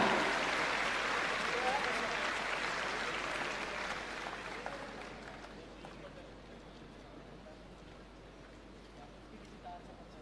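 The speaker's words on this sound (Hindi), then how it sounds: "जोरदार तालियां।" Sustained applause from a school celebration crowd in Delhi, loud at first and gradually thinning out over ten seconds, with a murmur of voices underneath.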